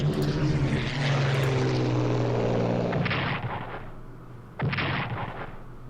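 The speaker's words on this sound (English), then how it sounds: "So we got this Romanian unit. Which we could start by bombing it." Aircraft bombing a Romanian unit in the strategy game Strategic Command: a loud droning propeller engine, then two sharp booming explosions, the second after a short pause, with no talking.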